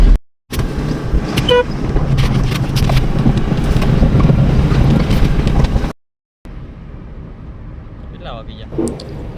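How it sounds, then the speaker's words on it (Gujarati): A four-wheeler pulls away on a rural farm road near Rajula: steady engine and road rumble with wind buffeting for about five seconds, then a quieter stretch where voices and light movement sounds come through. "આપણી ગાડી ઉપડી ગઈ છે"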